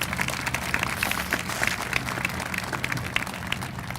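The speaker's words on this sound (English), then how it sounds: "Please join me in giving a final round of applause for our institutional scholarship" An audience at an Honors Day ceremony applauding institutional scholarship recipients, sustained crowd clapping with crisp individual claps standing out, steady throughout.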